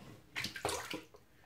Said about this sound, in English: I'm going to get my face wet.